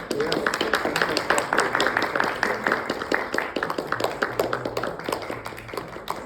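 An audience applauds at the end of a talk on war tax resistance, a steady round of clapping filling the room while a person speaks over it.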